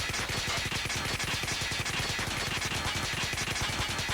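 RUS-79U submachine gun firing in a mobile shooter game, a long unbroken burst of rapid, evenly spaced shots rattling out loud and close for several seconds, with no voices.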